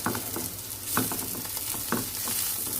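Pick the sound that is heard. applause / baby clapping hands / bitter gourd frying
bitter gourd frying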